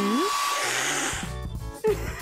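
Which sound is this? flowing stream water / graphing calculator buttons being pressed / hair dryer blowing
hair dryer blowing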